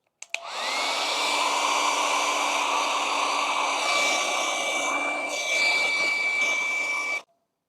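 A heat gun or hair dryer warms a sticker stuck on plastic on a Triumph Scrambler 400X motorcycle, blowing as a steady close roar with a thin high whine for about seven seconds before cutting off.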